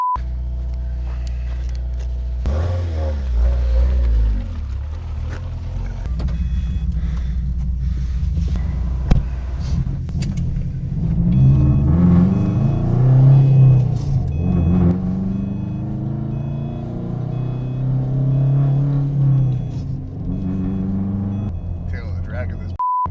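Built GD Subaru WRX STI engine rumbling low and steady in fourth gear around 3,000 RPM from inside the car, with wind noise and people talking over it.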